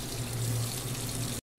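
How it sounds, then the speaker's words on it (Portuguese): Tap water pours steadily into a pot for a Cambuci pepper preserve, a loud continuous rushing stream that cuts off abruptly. "Olha aí, coloquei a água."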